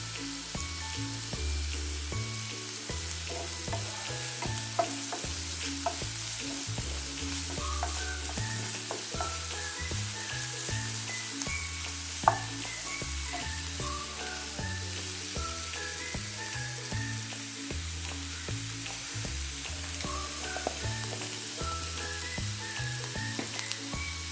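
Crushed ginger and garlic sauté in hot coconut oil for mushroom thoran, giving a steady, close sizzle with faint stirring scrapes throughout and no talking.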